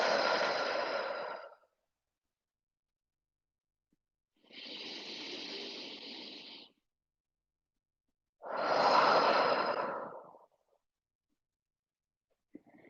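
Three slow, deep exhalations during a yoga session, each a soft airy rush lasting about two seconds with long silent pauses between, close to the microphone and with no talking.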